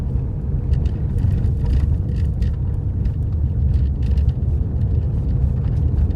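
A car engine pulls uphill in third gear with a steady, loud low rumble from inside the cabin and no change in pitch throughout.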